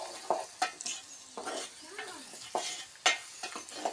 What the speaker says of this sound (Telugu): చూడండి, మళ్ళీ సెకండ్ టైం బాగా తిప్పుతున్నాం.